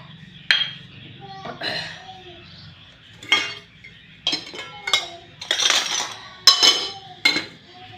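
A metal container is set down in a home kitchen, among a series of sharp metallic clinks and clatters of utensils and pots spread over several seconds. Some sounds are sharper and louder than others, with quiet pauses between them.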